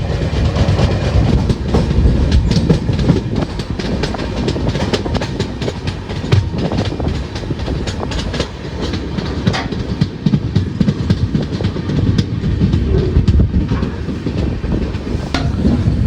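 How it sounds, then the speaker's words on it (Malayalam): A train rumbles past at close range near Nellayi railway station in Kerala, steady loud clickety-clack of wheels over rail joints with wind buffeting throughout. "നമ്മുടെ പെയറിംഗ് ട്രെയിൻ ഇങ്ങോട്ടേക്ക് വരുന്നുണ്ട്."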